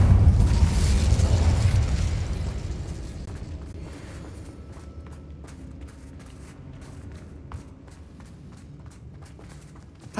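A loud fiery Incendio spell blast from Hogwarts Legacy bursts in the first couple of seconds, then fades into a low rumbling tail as scattered footsteps and small clicks continue in a cavern held by Ranrock's loyalists.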